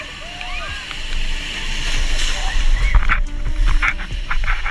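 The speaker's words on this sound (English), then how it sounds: "This reporter was reporting in France and got hit hard by the waves and got wet." Waves crash over a reporter on the French coast, loud surging water and splashing building into heavy broadband roar, with faint voices and shouts mixed under the surf.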